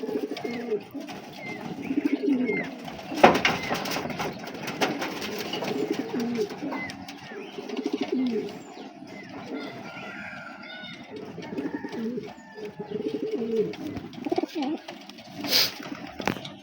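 Giribaz and Myna pigeons coo in a loft, soft repeated low throbbing calls overlapping at close range, with a brief sharp flutter or knock partway through and light background bustle.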